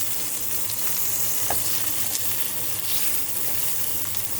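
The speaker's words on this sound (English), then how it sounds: "Salmon, you can tell it's already starting to really cook down in there." Salmon frying in a pan gives a steady, close sizzle with occasional light scraping and stirring clicks, no voices present.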